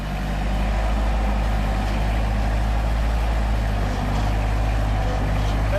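Toyota Hilux LN106 rock crawler driving off over rocks, its engine a loud, steady low rumble held close and constant throughout, with faint voices in the background.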